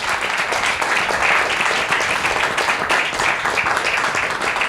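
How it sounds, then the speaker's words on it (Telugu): Sustained applause from a church congregation closing a worship gathering, dense and steady clapping throughout with no break. "చప్పట్లు కొట్టి దీన్ని మనం అయిపోద్దాం"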